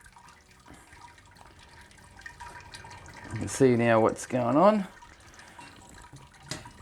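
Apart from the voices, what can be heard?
sparge water draining through grain filter while brewing IPA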